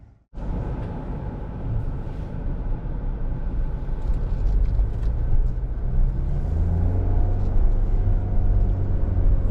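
A 2018 Subaru Impreza Limited pulls away from a dealership, its low, steady engine and road rumble heard from inside the cabin, growing slightly louder as it gathers speed.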